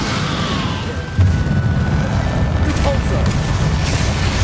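The Confringo fire-blast spell exploding in the wizarding game Hogwarts Legacy, a loud booming impact that hits about a second in over rumbling battle noise, with a voice speaking over it.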